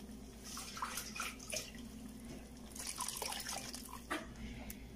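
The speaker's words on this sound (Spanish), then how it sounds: "Le voy a poner agua al vaso de la licuadora para enjuagar y se la agrego" Water splashes and trickles into a blender jar in a few short bursts, quiet and close, with faint dripping between pours.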